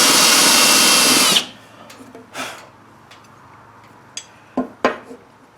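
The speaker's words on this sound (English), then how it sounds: "I'm going to drill about 1 inch deep" A loud power drill runs steadily while boring a blind spindle hole in a Windsor chair, then stops abruptly, followed by a few faint knocks and clinks in the quiet.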